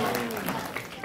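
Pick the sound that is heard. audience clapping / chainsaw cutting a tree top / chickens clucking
audience clapping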